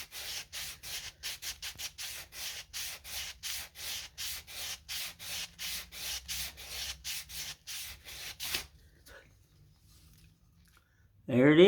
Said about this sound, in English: And you just grab your piece of sandpaper.